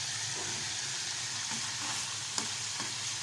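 Chicken pieces fry and sizzle steadily in a pan, a continuous bright crackle with occasional stirring clicks, close up and with no talk.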